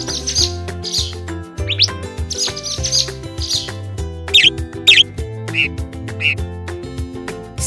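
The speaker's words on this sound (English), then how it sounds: "Sparrow." A sparrow gives a series of short, bright chirps, several in quick succession, heard over a prominent musical backing track.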